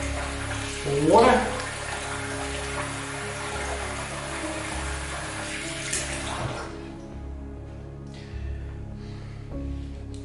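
A water tap runs steadily into a bathroom sink for rinsing after a wet shave, a continuous hiss with a splashy burst near the start, then quieter trickling as the flow eases.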